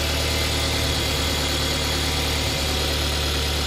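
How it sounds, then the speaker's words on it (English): A 2013 Mercedes A 200 (W176) engine idles steadily and close by, a continuous low rumble with a faint rhythmic vibration and no voices. "engine sounds and it's running sweet"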